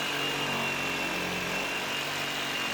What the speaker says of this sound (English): Get the reciprocating saw up against the material.